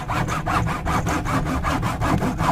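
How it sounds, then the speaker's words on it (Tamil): A hacksaw cuts through a plastic can in steady back-and-forth strokes, about four per second, with a close, scratchy rasp and no talking. "நான் இப்போ உங்களுக்கு முதல்ல ஆக்ஸா ஃப்ரேமில் வந்து கட் பண்ணி காமிக்க போகிறேன் பாருங்கள்"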